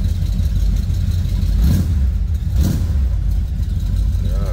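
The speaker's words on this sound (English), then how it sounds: "Let's go ahead and fire this up so you can hear it run." 1956 Chevrolet 3100 street rod pickup with true dual side-exit exhaust cranks over and settles into a loud, rumbling cold-start idle, with a couple of revs swelling briefly before it evens out.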